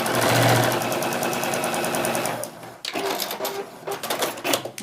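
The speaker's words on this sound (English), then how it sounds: "we're going to sew 1/4 of an inch, like I said, down this edge" Sewing machine stitching a quarter-inch seam along a quilt's binding, running in a fast, loud, steady mechanical whir for a couple of seconds, then stopping, followed by clicks and light handling noises nearby.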